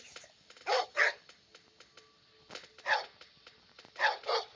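A dog in a cowboy video game barks in short bursts, two or three at a time with pauses between, moderately close over a quiet background with faint clicks.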